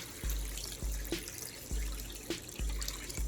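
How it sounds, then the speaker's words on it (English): Water sloshes and splashes in uneven bursts, poured in several short glugs into a pot of pork nearby, with faint dripping between. "And I'm going to put some water in here."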